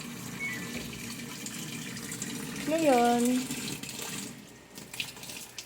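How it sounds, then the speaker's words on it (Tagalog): Water running into a Samsung Activ Dualwash 8.0 kg washing machine, a steady splashing stream with a brief gurgling swirl midway, while a person talks over it. "Malabas din ng tubig dito."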